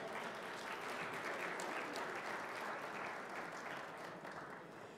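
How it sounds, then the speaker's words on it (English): An audience at a Bishop Ward Hall of Fame ceremony in 2022 gives a round of applause for the sponsors, a continuous, even roar of many hands that stays steady and fades slightly at the end. "let's all give them a big round of applause"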